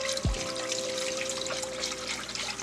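Milk, two cups of it, poured into a pan in a home kitchen, a brief soft splash followed by a quiet, steady trickle, close and fairly faint.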